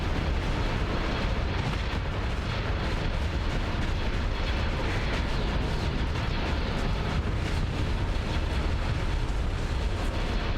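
Space bombs explode in the space-combat game Starsector as a dense, continuous roar of heavy rumbling blasts that stays loud and unbroken throughout.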